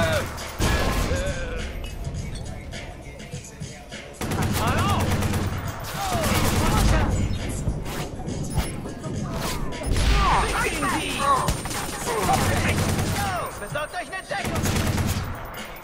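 Repeated bursts of weapon fire in Watch Dogs, loud clustered shots with crashes and mechanical clatter between volleys, stopping and starting several times while someone talks over parts of it.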